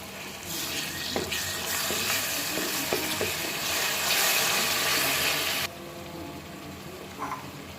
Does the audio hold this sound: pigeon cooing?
no